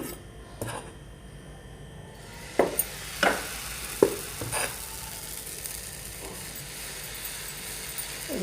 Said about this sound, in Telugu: ఇలాగా దోశ వేయాలన్నమాట. చూడండి, పల్చగా వేయాలి